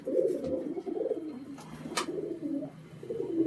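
A pair of Madras breed fancy pigeons coo close by in continuous low, throaty rolling calls, with brief pauses and a couple of soft clicks or taps in between.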